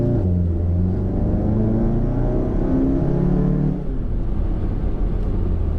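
A VW MK7 GTI with a Cobb Stage 3 catless downpipe cruises on light throttle, a steady low droning exhaust rumble from inside the car that eases briefly, with no talk.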